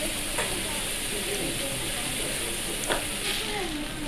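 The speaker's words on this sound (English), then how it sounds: "Cook raw ingredients such as pork, octopus, shrimp." Pork, octopus and shrimp for okonomiyaki cook on a hot griddle with a loud, constant sizzle and hiss, broken by a few scraping clicks from the spatula.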